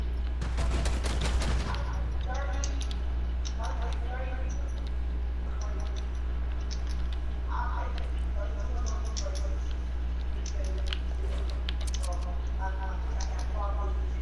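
Gunfire from a mech in a first-person shooter video game, with a dense burst of shots early on and then scattered, sharper reports over a constant engine-like drone, heard under ongoing talk.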